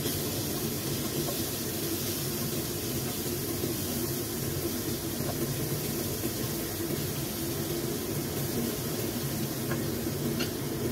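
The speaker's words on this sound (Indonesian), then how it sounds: "Di sini bumbu kare raciknya di sini akan saya tumis." Instant curry spice mix sautés in a pan with a steady, close sizzle and hiss that runs evenly throughout.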